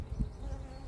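Bees hum in a low, steady drone, close but faint, over the brood frames of an open hive during an inspection.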